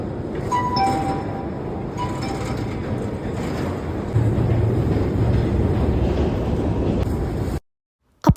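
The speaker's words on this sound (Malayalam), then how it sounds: "അപ്പോൾ നമ്മൾ മെട്രോ കയറിയിട്ടാണ് അങ്ങോട്ട് പോകുന്നത്." Metro train riding on rails heard from inside the car, a steady broadband rumble with faint metallic squeals, continuous and fairly loud before cutting to silence near the end.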